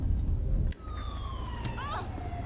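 An emergency vehicle siren sounds in GTA 5 police roleplay, a wailing tone sweeping down and rising again at moderate distance, after a low rumbling bed suddenly cuts out.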